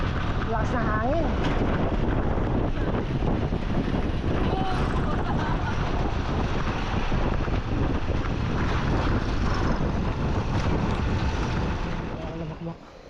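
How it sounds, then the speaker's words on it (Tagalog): Strong wind at sea batters the microphone with a steady, loud roar for the whole stretch, masking faint background voices before easing off at the end. "Lakas na hangin."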